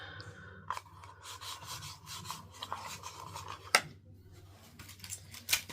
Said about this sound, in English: I'm just using an awl to make a hole where those two lines intersect